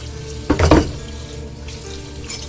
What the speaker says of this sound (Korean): 일부러 소리가 크게 설거지를 하기 시작을 했다